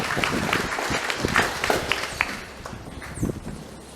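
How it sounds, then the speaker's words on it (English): Graduation audience applauding in a hall, a dense patter of many clapping hands with scattered louder claps, steady at first and thinning slightly toward the end. "Let us give them a big round of applause"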